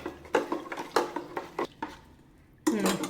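Spoon scraping and clinking against a metal pot as a chickpea tamarind curry is stirred, a series of short uneven strokes, close and fairly loud.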